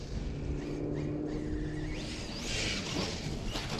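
An RC truck motor whines at high pitch as it drives through mud, rising and sweeping with the throttle and accompanied by wet splashing and scraping, close and continuous.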